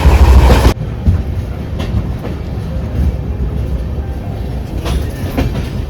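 The Konkan Kanya Express runs along the Konkan Railway, heard from inside as a steady rumbling roll with faint clickety-clack of wheels, after a loud burst of noise at the start, with no talk.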